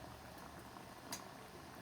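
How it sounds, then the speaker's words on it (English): Water boils in a pot for chicken-flavored rice, giving a faint, steady bubbling hiss with one brief louder pop and no talk. "Alright, so now it's boiling, so we're going to want to turn this down to low,"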